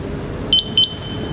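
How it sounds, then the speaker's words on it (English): An EZ Calipre measuring device, used for measuring points under a car, gives two short, clear electronic beeps after its acknowledge button is pressed, with a steady low background hum. "Beeps."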